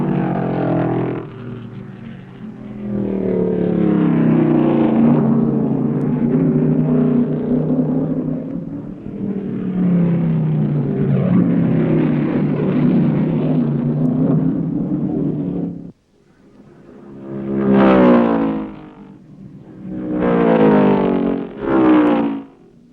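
1970 Grand Am race cars at full speed, loud roaring engines passing in long sustained swells, then a brief pause followed by two more quick passes.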